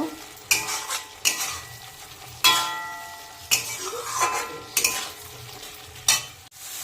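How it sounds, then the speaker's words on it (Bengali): Fried pointed gourd (potol) and strained yogurt being stirred in a pan, with a steady sizzle and loud scraping strokes of a spatula against metal recurring about every second. "ভেজে রাখা পটলগুলো দিয়ে দিলাম, ভালো করে কষিয়ে নেব।"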